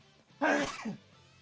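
A single sharp sneeze bursts out, loud and close, with a quick breathy tail, then fades to quiet room tone.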